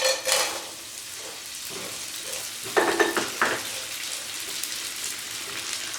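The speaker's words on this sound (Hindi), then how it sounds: "अब हम इसमें चीड़ डालेंगे, गोंदल डालेंगे, आधी थोड़ी थोड़ी करके हम इसमें फ्राई कर लेंगे।" Pine nuts and edible gum (chir and gond) frying in hot ghee over medium-low heat, a soft bubbling sizzle broken by a few clinks and stirring scrapes of a spoon against the pan.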